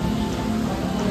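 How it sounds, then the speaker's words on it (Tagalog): Rain falls steadily on surfaces outdoors, a brief, soft and continuous patter with no voices over it. "It's raining man!"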